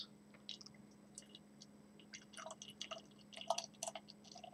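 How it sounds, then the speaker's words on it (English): Beer from a newly opened can or bottle, a Jailbreak Brewing Company brew, poured fairly roughly into a glass, with faint drips and bursts of fizzing carbonation crackle building over a low steady hum, quiet and close. "Go ahead and pour it out here in my glass."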